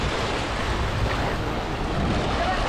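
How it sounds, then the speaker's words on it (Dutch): Mediterranean Sea waves washing in close by, a loud continuous surf roar mixed with wind buffeting the microphone, with no one speaking. "De Middellandse Zee."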